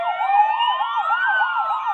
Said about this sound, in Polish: Miał syrenę oczywiście.